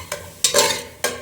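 Mutton sautéing dry in a pan without oil, with three loud, close sizzling bursts as the meat is stirred and turned, then brief quiet between them.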